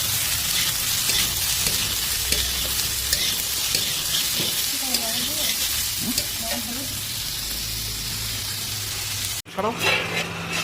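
Slit green chillies fry with mixed vegetables, including cauliflower, for chowmein. A loud, continuous sizzle is broken by stirring scrapes, and a voice talks over it briefly midway.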